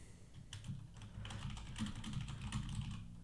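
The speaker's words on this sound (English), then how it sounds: "I'll give you a keyboard ASMR." Computer keyboard typing in a quiet room, with a steady run of soft, close clicking keystrokes and no talking.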